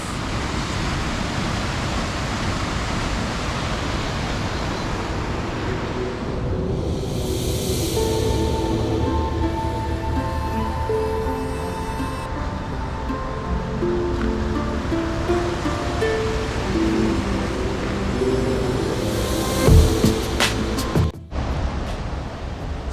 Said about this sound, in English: then you can see the waterfalls,